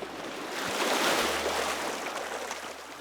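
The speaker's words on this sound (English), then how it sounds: "Right, I'm gonna tip out that water." Water from a pot of boiled potatoes tipped out in one continuous gushing pour, swelling then easing over a few seconds, with no voices.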